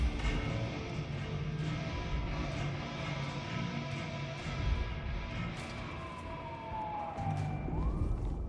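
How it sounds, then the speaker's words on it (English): Police sirens wail in the Bloodlines 2 video game, a steady loud drone with a falling tone sweeping down near the end, set over dense game ambience. "The sirens are wakeful, Detective."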